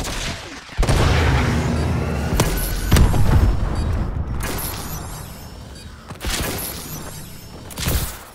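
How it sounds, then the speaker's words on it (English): Missile strikes land in a Call of Duty game as a run of heavy booms and crashing blasts, several loud impacts spaced a couple of seconds apart with rumbling debris between them, no talk. "Friendly missile strikes inbound."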